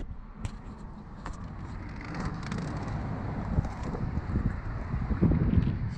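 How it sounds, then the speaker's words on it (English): Steady wind buffeting the microphone outdoors beside a freeway, with a low rumble of passing traffic underneath and occasional sharp clicks, growing slightly louder toward the end. "it's a little windy here"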